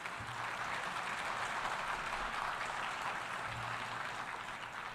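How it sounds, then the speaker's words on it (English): A large audience at the UN General Assembly applauds steadily, a dense wash of clapping heard from a distance, sustained without pause. "Well, you applaud now."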